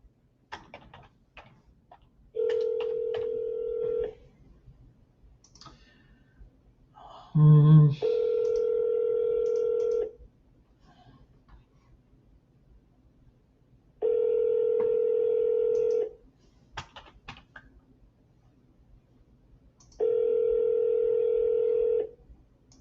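On an outgoing phone call, the ringback tone sounds in four steady bursts spaced several seconds apart, with a short burst of dial tones partway through and faint background clicks. Nobody talks.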